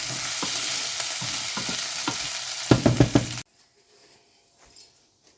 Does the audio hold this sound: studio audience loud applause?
no